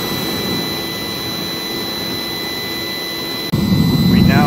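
A homemade waste oil foundry burner roars steadily and loudly with its blower running, a dense jet-like rush that swells even louder near the end.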